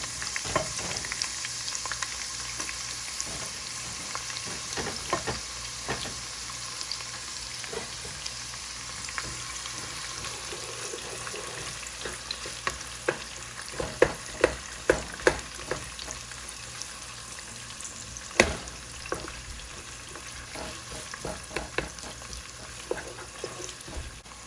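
Onion and garlic frying in a pot for an Ethiopian cabbage and meat dish: a continuous close sizzle with frequent clicks and scrapes of stirring, and sharper knocks toward the middle, with no voices.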